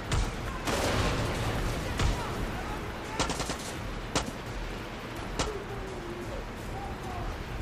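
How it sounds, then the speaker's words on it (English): Rapid bursts of video game gunfire crackle in sharp repeated volleys over a steady noisy background, with someone talking between the shots. "Somebody up here shooting."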